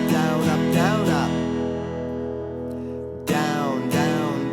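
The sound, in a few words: guitar strumming pattern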